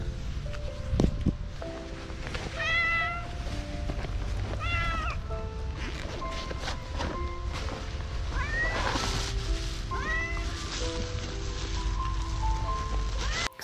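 A small, wet kitten meows repeatedly out in the rain. Its high, plaintive cries come in scattered bursts over steady rain patter and rustling, fairly close and clear.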